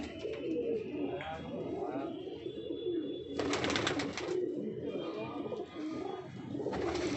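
Racing pigeons in a loft coo in low, throaty, overlapping murmurs, steady and close, with occasional flutters and a brief burst of bright noise in the middle.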